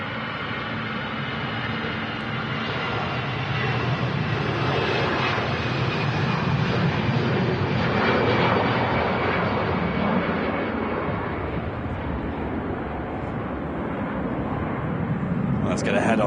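easyJet Airbus A320 rolling for takeoff on runway 05L at Manchester Airport, a broad jet roar heard from a distance that swells and stays steady, with a faint whine, then eases off toward the end.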